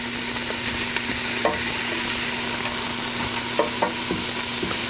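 Vegetables softening in a hot pan are stirred around, steady sizzling of frying underneath with a few sharp scraping clicks of the utensil, close and fairly loud throughout.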